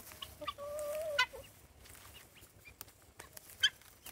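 Chickens eating sweet potato leaves cluck quietly, with a few sharp, scattered calls and a short, higher squawk, all fairly faint against soft outdoor background noise, with no talk.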